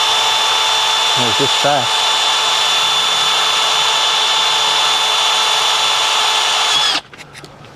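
A power drill with a step drill bit whines steadily at high speed for about seven seconds, close and loud, then stops; a person speaks briefly over it near the start, while installing a Jeep snorkel.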